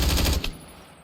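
An automatic assault rifle in a war modpack game firing a quick, loud burst of rapid shots that cuts off after about half a second and fades out.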